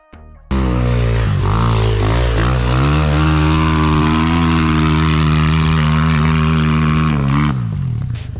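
A motorcycle with a 174 engine fitted with a big-bore kit starts up and rides off, its loud close engine note rising and then holding a steady high drone.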